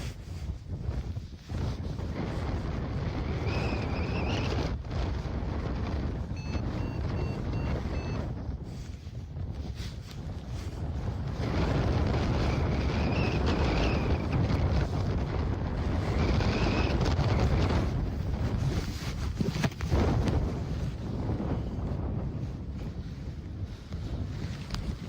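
Strong, gusting wind buffets the microphone while a paraglider comes in to land on top at Staňkovka, a loud low roaring rumble that surges and eases over about twenty-five seconds, with faint high beeps from a flight instrument.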